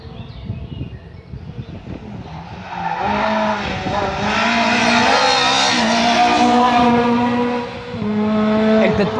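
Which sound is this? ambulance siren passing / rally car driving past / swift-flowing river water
rally car driving past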